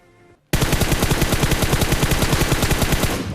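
Rapid automatic gunfire in a shooting video game, a loud, steady stream of closely spaced shots that starts abruptly after a brief quiet lead-in and runs without pause to the end.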